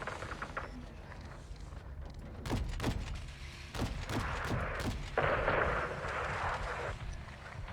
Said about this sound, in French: on subit des tirs de roquettes venant de l'Est